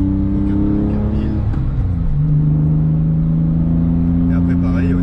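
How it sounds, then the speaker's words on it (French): Flat-six engine of a Porsche Carrera 4 revs steadily from inside the cabin, a loud sustained drone that dips briefly and then climbs again in pitch, with faint voices underneath. "Il n'y a aucun autre moteur qui chante comme ça."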